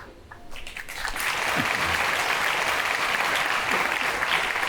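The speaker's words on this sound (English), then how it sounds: "are you all clapping?" An audience breaks into loud, sustained applause that swells within the first second and holds steady, a dense wash of many hands clapping.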